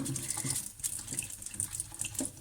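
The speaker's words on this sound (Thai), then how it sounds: "อย่าล้างเห็ดแบบนี้มันเสียรสชาติ" Water running and splashing while mushrooms are rinsed in a kitchen, an uneven close trickle and gush with small spatters, no voices.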